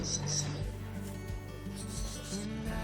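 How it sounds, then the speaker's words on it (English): Scraping and rubbing from cleaning out a horse stable, heard faintly as a continuous scratchy rasp, with soft bird chirps over it. "You can hear me in the background cleaning up after Coby in his stable"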